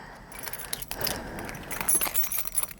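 Keys clipped to a breakaway lanyard with ID cards jingle and clink up close in several short, shaken bursts, with no talking.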